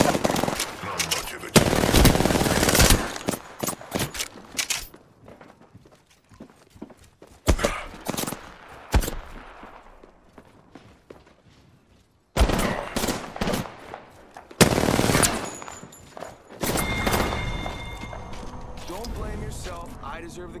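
Gunfire in Apex Legends comes in loud, rapid bursts of automatic shots separated by quieter gaps, with a voice speaking between the volleys.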